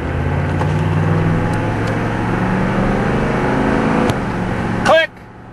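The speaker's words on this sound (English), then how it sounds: "Click! Into second gear." Green pickup truck with a hot transmission, its engine droning steadily before a sharp click as it shifts into second gear, followed by a brief burst of sound and a drop to a quieter idle.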